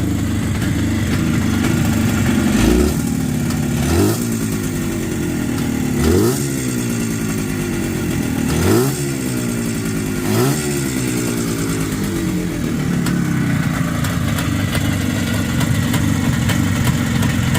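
An IZh Jupiter 3 motorcycle engine idles steadily and loudly throughout, with a few brief revs rising and falling at regular intervals; one exhaust pipe has a leak.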